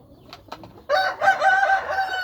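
A rooster crows nearby, a loud drawn-out call rising after a few short clucks and softer sounds.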